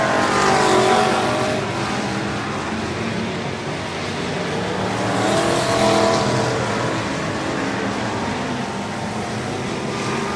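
Stock race cars battle around the Cotton Bowl Speedway track, one running with its engine smoking heavily, producing a steady loud engine roar with rising and falling surges as cars sweep by.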